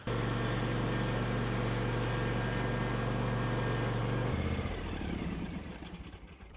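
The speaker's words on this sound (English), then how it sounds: "I gotta run it for about 2 or 3 minutes just to get it warm, the engine warm" A lawn tractor engine runs at a steady, loud, rumbling idle while it warms up before an oil change, then it drops in pitch and fades as it winds down near the end.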